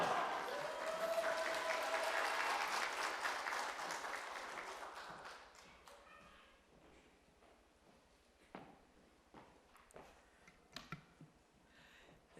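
A church revival congregation applauds loudly, the clapping steady for several seconds, then thinning out into scattered claps and small knocks as it fades.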